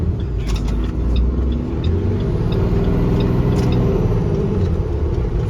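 Electric trolley bus passing on a Vancouver street, a loud close rumble of road traffic with tire and body noise swelling and fading over a few seconds, with no talk.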